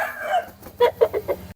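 A yellow Aseel rooster gives a short burst of clucking, then four quick, loud, evenly spaced calls, close by with nothing else around it.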